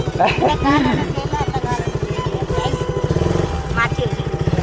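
A motorcycle engine idles and runs steadily with a pulsing low throb throughout, close by, while people talk over it in Tamil.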